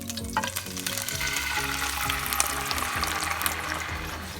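Oil sizzles and fries steadily in a pan at the start of a pepperoni pizza sauce, a dense, continuous crackle close by with no talking.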